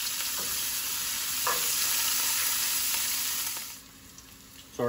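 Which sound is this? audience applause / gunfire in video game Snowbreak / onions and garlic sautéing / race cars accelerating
onions and garlic sautéing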